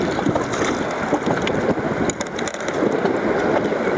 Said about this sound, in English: It's windy up here today.